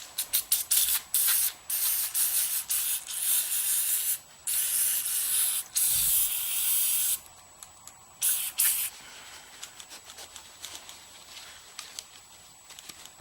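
Aerosol cleaner sprays in repeated short bursts onto a minibike carburetor, close and hissing, with brief gaps between blasts and quieter, sputtering spurts toward the end.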